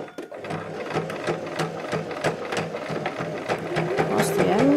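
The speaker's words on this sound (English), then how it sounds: "I'm going to sew it across the end" A sewing machine stitches fabric for a wheat heat pack, a fast steady needle clatter with regular mechanical ticks, close and continuous, with no voices.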